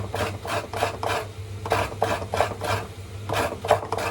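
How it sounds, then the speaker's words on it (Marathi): Coconut being finely grated by hand on a grater, working from the edges inward, with steady repeated rasping strokes, about six close, even scrapes over a low background hum, no talking. "ही सुद्धा एक कला आहे ते बारीक खोबरं किसण्याची"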